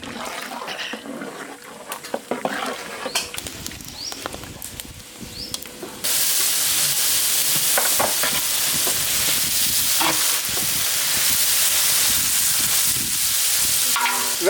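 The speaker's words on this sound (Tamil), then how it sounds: "அது கூட வந்து தக்காளி வெங்காயம் இது ரெண்டையும் சேர்த்துக்கலாம் இப்போ நல்லா கலந்து விட்டுக்கலாம்" Tomato and onion being stirred into frying dal for thalicha, a continuous loud sizzle with spoon scrapes and clatter, growing denser and steadier partway through.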